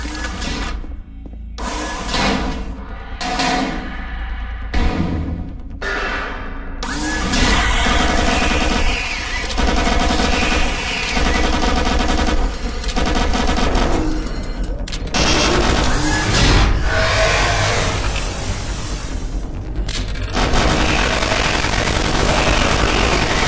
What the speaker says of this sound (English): I believe this is where you first get the chain gun